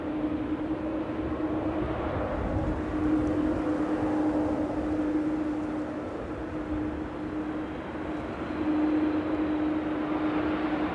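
Airliner arriving from Porto and landing at Manchester Airport, a steady broad jet roar with a sustained engine whine, fairly distant and even throughout, with no talking.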